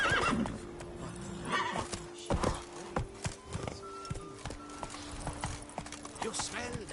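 Roach, Geralt's horse in The Witcher 3: Wild Hunt, gallops with rapid clip-clopping hooves and lets out a loud whinny, mixed with in-game voices and background ambience.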